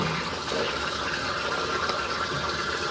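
Close water splashing and running tap water, a continuous wet wash over a few seconds as the face is wetted before a shave, with no talking.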